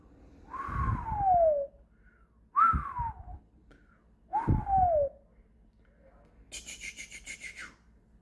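A man whistles loudly three times, each a gliding, falling note of about a second, with pauses and breathy sounds between them, followed by a brief buzzy rattling noise.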